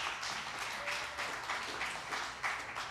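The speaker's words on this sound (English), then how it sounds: "Let's give them a round of applause." A crowd applauds steadily at a church service, a dense wash of clapping that swells slightly in waves for a few seconds.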